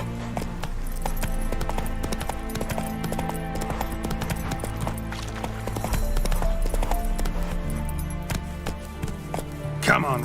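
Roach, Geralt's horse in The Witcher 3, gallops with a rapid, close clip-clop of hooves that runs the whole way, layered over game music and a voice speaking.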